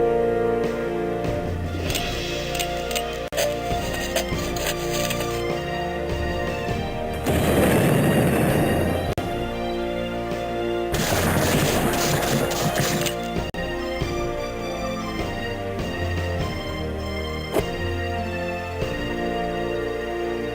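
Artillery booms and gunfire from the Civil War Generals 2 strategy game, heavy crashing blasts over a continuous game music bed, with a couple of long loud bursts partway through.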